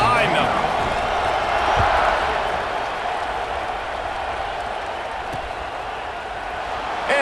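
Stadium crowd in College Football 26 at kickoff before Nevada Wolf Pack at Penn State, a broad steady roar of cheering fans under commentator talk.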